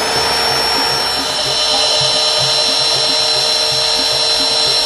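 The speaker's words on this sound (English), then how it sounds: "This drilling will give us information about the condition of the pole below grade" A steady, high-pitched mechanical whine of a resistograph drill boring into a wooden utility pole at 45 degrees runs continuously at close range, with a faint low rumble beneath and no talking.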